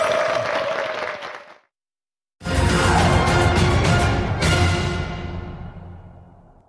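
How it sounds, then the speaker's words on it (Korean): Studio audience applause for a lecture guest on a Korean talk show, a loud burst of clapping that cuts off briefly, then returns full and steady before tapering away. "여러분의 큰 박수로 청해보도록 하겠습니다"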